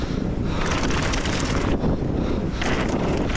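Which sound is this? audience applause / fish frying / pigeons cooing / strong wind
strong wind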